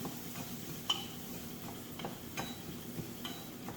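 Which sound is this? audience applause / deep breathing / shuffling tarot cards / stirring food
stirring food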